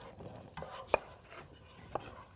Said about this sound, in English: I'm going to work on chopping up an apple here